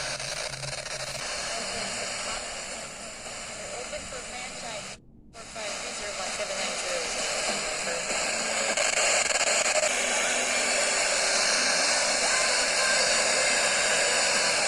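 A transistor radio powered by a solar setup hisses with steady broadband static while being tuned, the noise cutting out briefly midway and then returning slightly louder, continuous and close.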